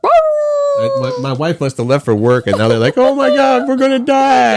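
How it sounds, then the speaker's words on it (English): A dog howls in a long wavering cry at the start, then keeps yelping and howling indoors in the background while a person talks loudly over it. "Sorry, doggy barking in the background."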